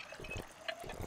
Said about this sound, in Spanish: vamos a beber agua antes de irnos a dormir